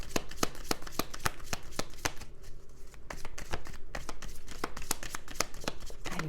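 Tarot cards shuffled by hand during a reading, a steady run of quick, crisp riffling snaps repeating throughout at close range with no talking.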